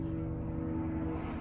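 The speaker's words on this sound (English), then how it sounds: "oh, there's a helicopter or something outside" A helicopter or light aircraft drones outside a room, a low, steady engine hum with a faint rhythmic throb, distant and muffled, with no talking over it.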